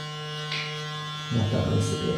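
Electric hair clippers with a number one guard buzz steadily up close while cutting a short haircut, the tone shifting and roughening partway through as the blades bite into hair.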